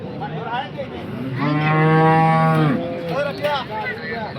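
A large cow at the Sangola cow market in Maharashtra lets out one long, loud moo close by, with shorter lowing sounds just before and after.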